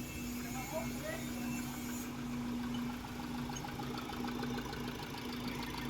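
A Ford Raptor 2.0 engine idles after an injector replacement, giving a steady, close mechanical hum with a faint repetitive ticking throughout, while people talk nearby.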